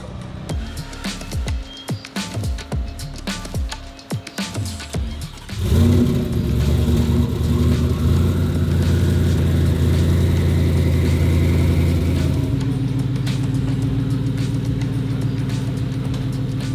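A stock-engined 2024 Ford F150 idles and then revs hard, its loud engine roar rising abruptly and holding steady near the listener with no talk.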